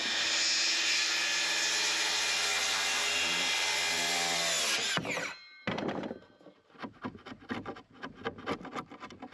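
A power drill drives screws into a wooden ship's ladder for an off-grid cabin loft, with one long, loud, steady whirring run followed by a pause and then a series of short, choppy bursts.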